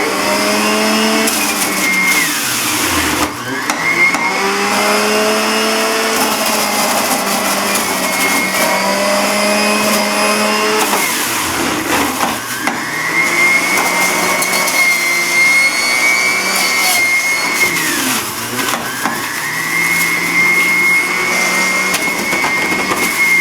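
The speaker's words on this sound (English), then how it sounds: "what I'm going to start juicing next is my carrots, beets, cucumber, celery, and ginger" A home juicer grinds carrots, beets, cucumber, celery and ginger, its motor whining loudly and steadily, then dipping and straining each time fresh produce is pushed in, with crunching and shredding through the drone.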